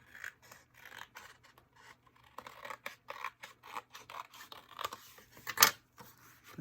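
Scissors snip a thin sliver off a piece of cardstock for a scrapbook layout, a series of short crisp cutting strokes in an irregular rhythm, close and quiet with no speech.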